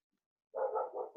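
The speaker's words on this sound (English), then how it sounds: "Can you guys hear my dog barking?" A dog barks indoors in a few quick, fairly close yaps run together, starting abruptly after a second of near silence.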